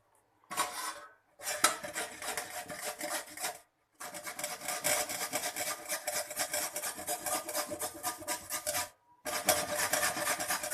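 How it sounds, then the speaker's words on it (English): Carrots rubbed against a metal grater for carrot halwa, a steady scraping rasp in quick repeated strokes, close and fairly loud, broken by a few short pauses, with no talking. "Like this I am going to grate all the carrots."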